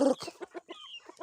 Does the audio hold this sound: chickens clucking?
yes